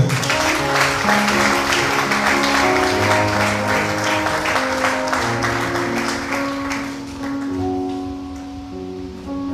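A church congregation applauds together, with a sustained wash of clapping under held organ or keyboard chords that slowly fades toward the end.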